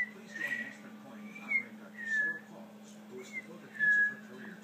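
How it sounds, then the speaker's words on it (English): A small child whistles a few short, breathy, high notes in a quiet room, faint and spaced apart over a low steady hum, with an adult voice speaking softly between them. "Did you just whistle?"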